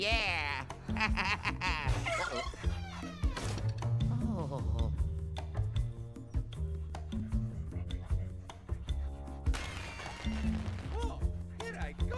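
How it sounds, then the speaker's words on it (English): A cartoon dog in Luigi's Mansion 3 barks and yips in short, excited bursts with a few whimpers, mixed with game music and someone talking over it. "the doggy? No, I'll just walk through him."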